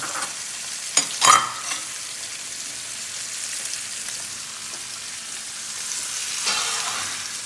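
Sweet onions fry in a pan with a continuous crackling sizzle, broken early by a few sharp scrapes and clatters as they are turned, close and steady, with no voices.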